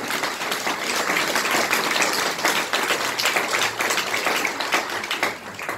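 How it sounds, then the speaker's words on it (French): Audience clapping steadily and densely for the full stretch at a talk about what books pass on, fading only slightly at the end, with no voices over it. "on peut prendre le temps de vous applaudir"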